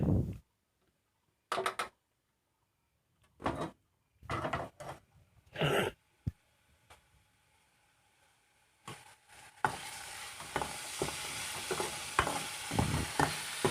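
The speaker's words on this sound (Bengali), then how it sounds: "আস্তে আস্তে নেড়ে নিচ্ছি ভালো করে মশলাগুলো কষানো" Spices (masala) being stirred in a pan for a teasel gourd fry, opening with intermittent scraping strokes separated by quiet gaps, then a steady frying sizzle with repeated stirring scrapes layered over it.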